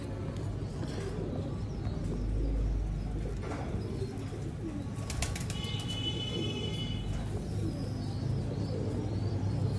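Sialkoti pigeons cooing softly in a loft amid a constant low background hum, with scattered faint calls and a brief flutter of wings partway through.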